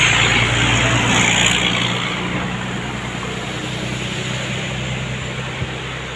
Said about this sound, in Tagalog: Ayan na guys, yung truck.